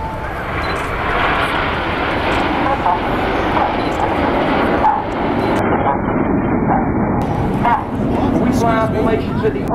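Red Arrows jets roaring overhead at the Blackpool airshow, a loud sustained jet rumble with shifting pitch as the formation passes, while people talk over it.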